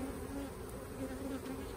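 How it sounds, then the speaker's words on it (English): A dense, steady hum of many honey bees buzzing together close by in an open hive, with individual wings droning in and out of the constant drone. "Looks like there's quite a few bees in here still."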